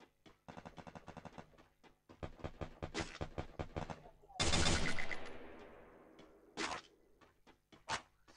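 A short-range gun fires in the battle royale game Free Fire, with rapid bursts of shots followed by single spaced blasts and one louder noisy burst, fairly quiet overall, while faint talk continues underneath.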